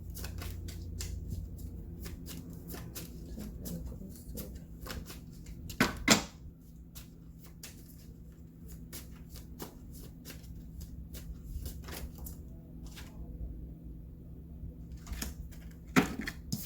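Tarot cards are shuffled by hand in quiet close riffles and soft slaps, a steady string of short papery taps with a couple of sharper snaps along the way.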